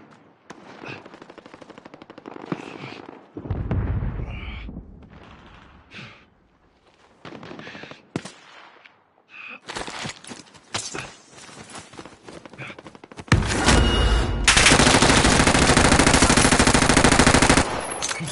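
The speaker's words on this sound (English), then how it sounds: "We're taking fire!" Rapid bursts of automatic gunfire and single shots in the Call of Duty game Pacific Rebirth, close and loud, intensifying into a long sustained barrage near the end, with footstep-like thuds between bursts.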